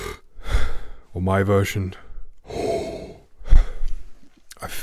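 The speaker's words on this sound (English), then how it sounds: "Listen to my breath." A brass player takes deep inhalations, first a tense version and then a relaxed one: audible breathy gasps and sighs alternate with close spoken voice.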